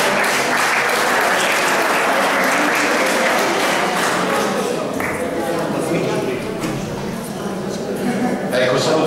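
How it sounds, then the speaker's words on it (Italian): Students of a hotel-management school applaud at a gastronomy school open day, dense loud clapping that holds steady for several seconds and eases slightly near the end, with some voices mixed in. "Ragazzi, fatemi un applauso."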